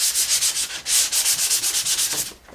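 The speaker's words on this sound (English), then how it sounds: "Go ahead and sand." Sanding disc rubbing across a painted wooden surface in decorative tole painting, a close, steady run of rhythmic scratchy strokes, about a dozen quick passes with no voices.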